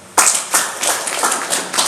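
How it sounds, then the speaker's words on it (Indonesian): A small group claps briefly, uneven and scattered hand claps over a couple of seconds, nearby. "Tepuk tangan untuk Pak Firdaus."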